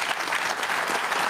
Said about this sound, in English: Look at this massive applause